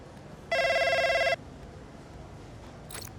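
A phone rings once in the F1 25 video game, a single bright electronic ringtone burst lasting under a second over quiet background, followed later by a faint short chirp.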